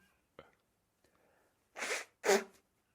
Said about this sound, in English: I've just got to blow my nose and sneeze.